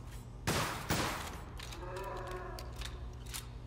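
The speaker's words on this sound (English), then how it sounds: "I want the rapid shotgun." The rapid shotgun in the video game Solstice Chronicles MIA fires two quick, loud blasts close together, followed by a softer rumbling and clattering tail of game effects.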